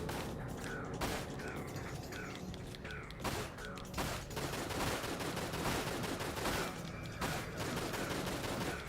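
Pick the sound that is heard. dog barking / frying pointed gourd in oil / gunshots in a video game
gunshots in a video game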